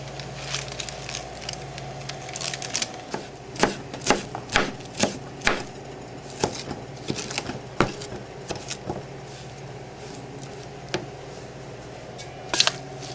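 A knife chops an ingredient for salmon patties on a cutting board, with a run of crisp, irregular taps that cluster in the middle and then thin out, close and fairly clear over a quiet room.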